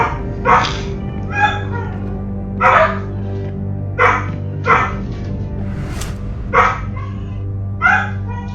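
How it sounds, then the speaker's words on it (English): A dog barks repeatedly at a steady, spaced-out rhythm, about eight loud barks over a constant low mechanical hum, in the video game Deus Ex: Human Revolution Director's Cut. "barking dogs, awesome"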